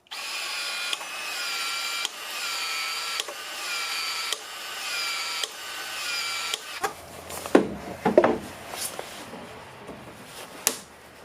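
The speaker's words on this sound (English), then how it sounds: "I got the 1/2 inch fitting on the expander now, and I'm going to be putting this one right here" A PEX expander tool works 1/2 inch Uponor pipe for a no-crimp fitting, giving a steady motorized whir pulsed by regular clicks, then a run of sharper plastic snaps and knocks as the fitting goes on.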